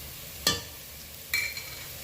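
Dried red chillies and crushed black pepper tossed into a hot pan for a chicken curry, giving two sharp, close bursts of sizzle and stirring over a quiet background.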